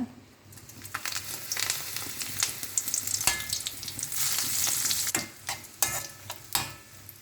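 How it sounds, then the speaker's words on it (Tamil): Prawns and dried chillies fry in a hot pan with a close, crackling sizzle, broken by bursts of spattering and the scrape of stirring. "நல்லா கிறிஸ்பியாக பொரிச்சிக்கோங்க."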